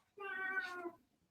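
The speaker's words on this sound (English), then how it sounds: "Oh. There's cats." A single cat meows once, a clear drawn-out call lasting under a second at close range, in a quiet indoor space where the cats are kept to guard camels from mice.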